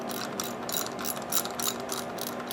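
Socket wrench ratcheting a bolt on a Briggs lever engine during restoration, a close, rapid series of clicking ratchet strokes in quick regular bursts.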